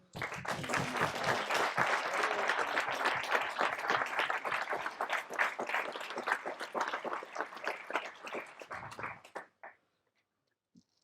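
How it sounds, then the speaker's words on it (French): Applause for international delegates at a round-table gathering, a dense steady clapping from a room of people that carries on for about nine seconds before ending abruptly and leaving silence. "Et je vous demanderai un léger applaudissement"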